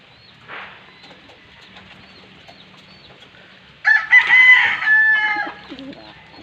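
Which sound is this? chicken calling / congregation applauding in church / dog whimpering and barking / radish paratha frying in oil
chicken calling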